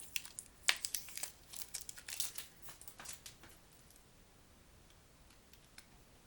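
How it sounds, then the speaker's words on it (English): Tape and plastic wrap are peeled off an Apple AirPods Pro box in quick, faint crinkles and sharp tearing ticks close by, thinning out toward the end. "Let's get this tape off of them"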